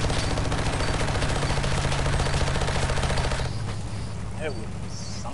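Rapid automatic gunfire in the game CRSED (Cuisine Royale), a loud continuous burst for about three and a half seconds that then cuts to quieter scattered sounds.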